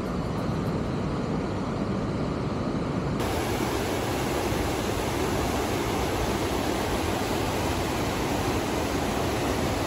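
The Jaldhaka river flowing in the Dooars forest country, a constant broad rushing roar of water that stays loud and unbroken throughout, with no voices.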